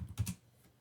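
Short run of close, crisp keystrokes on a computer keyboard as a terminal command is typed, a few quick clicks clustered near the start before fading to quiet.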